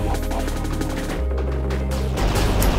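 Rapid gunfire in the shooter video game Viricide, a loud, continuous burst of electronic shots over a droning game soundscape with a deep hum, no speech.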